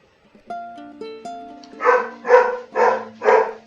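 Dogs in the video game Marie's Room bark four times in a steady rhythm, loud and close, after a few soft electronic tones, with no talking.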